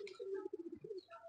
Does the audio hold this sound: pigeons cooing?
yes